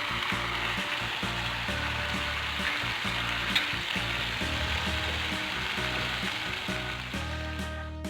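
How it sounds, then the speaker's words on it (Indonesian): Coriander and black pepper fry in a pan of oil with a loud, continuous close-up sizzle, and stirring clatters now and then beneath the steady hiss. "Masukin ketumbar sama mericanya."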